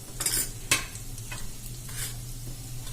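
Cumin, fenugreek and mustard seeds with a pinch of asafoetida crackle in hot oil for a spiny gourd curry, a few sharp pops and stirring clinks over a low steady sizzle, close and fairly quiet.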